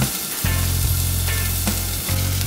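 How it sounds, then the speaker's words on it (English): Garlic and chopped onion browning in a hot pan on a stove at medium-high heat, giving a steady, close sizzle of frying that runs throughout with no talking. "we're gonna brown the garlic and chopped onion just for a little while"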